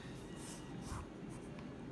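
A pencil sketches a caricature draft on paper, producing a steady, close scratching of graphite strokes with slight swells in pressure throughout.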